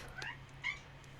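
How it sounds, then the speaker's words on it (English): A kitten gives two short, faint meows over a low background hum. "Baby cat's agreeing."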